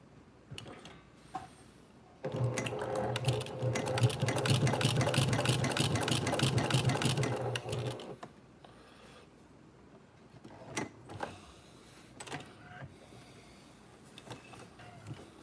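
Brother PQ1500SL sewing machine stitching a stadium game day bag with a lengthened stitch, a loud steady mechanical run of about six seconds, followed by quieter clicks and handling noises.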